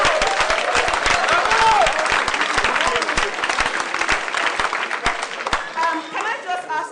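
Lecture audience applauding loudly and steadily for the whole stretch, dense clapping with some cheering and chatter mixed in, a voice briefly rising above the crowd.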